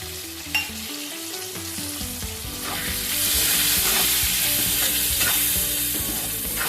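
Cumin and coriander powder are stirred in a hot frying pan, with a steady loud sizzle that swells after a few seconds and is marked by repeated scraping strokes of a spatula, close up.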